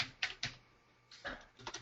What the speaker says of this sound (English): as you're typing this